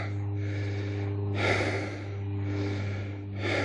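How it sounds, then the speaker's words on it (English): Heavy, puffing breaths from someone walking after a jog, a few slow drawn-out inhales and exhales close to the microphone over a low steady hum. "you can hear I'm more visibly puffed"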